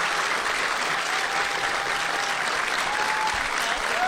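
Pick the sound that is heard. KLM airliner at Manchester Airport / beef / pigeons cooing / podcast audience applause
podcast audience applause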